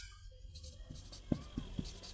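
Short scratchy strokes of writing on a board, a few distinct taps and scrapes close by in a quiet room, faint and brief.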